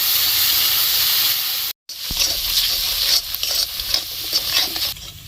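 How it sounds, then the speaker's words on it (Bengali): Ground turmeric, coriander and chili powder fry and get stirred in a pan for a fish curry, a loud close sizzle broken by a brief cut, followed by scraping stirs over hissing oil. "সব মশলা ভালো করে কষিয়ে নিয়েছি"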